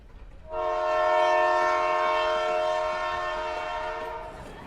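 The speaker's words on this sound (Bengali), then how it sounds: "ট্রেন ছুটছে তার নিজের গতিতে" A train runs along its tracks in a Bengali audio ghost story, a loud sustained horn blast sounding over the steady rumble for several seconds before easing slightly toward the end.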